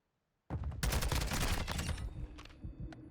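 Grenade blast in Call of Duty: after a moment of silence, a sudden loud explosion bursts up and rolls into a dense crackling rumble that fades over about two seconds.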